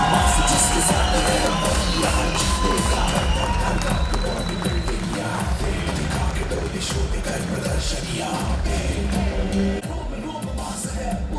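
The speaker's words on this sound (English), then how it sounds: "keep the claps going" Audience at a bodybuilding competition, Parel Shree: loud, continuous crowd noise with cheering, shouts and clapping, sustained throughout with voices talking over it.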